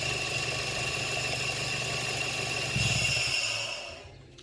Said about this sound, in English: low idle, this is sort of idling around 800 RPM